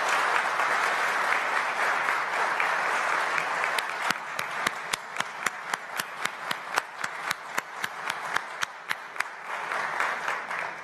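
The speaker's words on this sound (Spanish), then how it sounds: "Y quiero un aplauso a todos los miembros y empleados de la Junta Central Electoral." A large crowd applauds the members and staff of the Junta Central Electoral during Luis Abinader's speech after receiving his presidential certificate. Loud, dense applause runs throughout, and sharp rhythmic unison claps emerge over it partway through.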